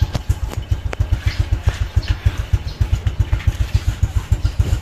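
A small motorcycle idles close by with a steady, rhythmic putter of regular low pulses, given as a birthday gift to a father, running alone with no talk over it.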